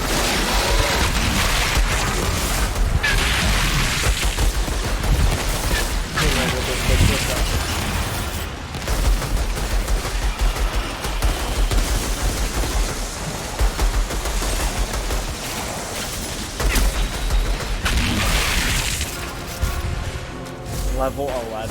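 Pistol gunfire in the shooter game Outriders, with sharp shots recurring through a dense, loud mix of explosions and game effects while a player talks over most of it.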